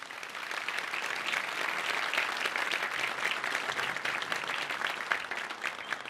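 A concert audience breaks into dense, sustained applause as a singer is introduced on stage, loud and even throughout, with many hands clapping at once and faint crowd murmur beneath.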